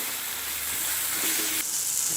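Green chilies, ginger and garlic fry in a pan for a chicken curry while being stirred, giving a brief, soft, steady sizzle with light scraping from the stirring.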